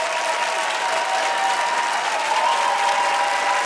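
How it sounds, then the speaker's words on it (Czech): Studio audience applauding on a TV dating show, a sustained even wash of clapping from a crowd, with a faint tonal sound running under it and no clear talking. "Zaslúži si potlesk, je tvoj."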